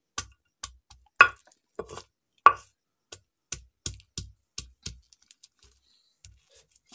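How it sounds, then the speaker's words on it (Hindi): Garlic cloves, about an inch of ginger and green coriander crushed finely in a mortar, heard as a series of sharp, close pounding knocks in an uneven rhythm that slows and thins toward the end, with no talking. "इसको हम प्रॉपरली ऐसे बिल्कुल महीन पीसेंगे"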